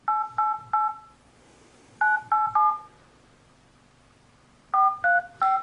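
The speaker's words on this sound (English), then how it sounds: "we're going to call the Samsung support line" A Droid Charge phone dials the Samsung support line, giving three quick sets of three dual-tone keypad beeps separated by short pauses, clear and close with no talking.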